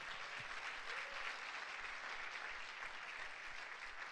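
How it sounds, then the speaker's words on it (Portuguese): Church congregation at a pastors' gathering clapping in a steady, sustained burst of applause, even and continuous for several seconds, moderately distant and fairly soft. "Dá um aplauso ao Senhor Jesus"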